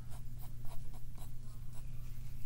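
A pen scratches steady lines across paper while a sailfish is drawn, a soft, continuous scraping close to the mic with short repeated strokes and no talking.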